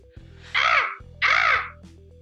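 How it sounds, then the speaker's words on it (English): A crow gives two drawn-out harsh caws, close-sounding and clear, with a faint tonal hum and a brief click between them, no voices. "in the distance, a crow caws"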